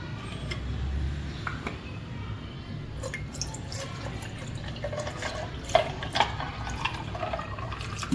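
Cold water trickles and splashes softly, with occasional brighter drips and gurgles, as it is poured into a container while making homemade mango squash.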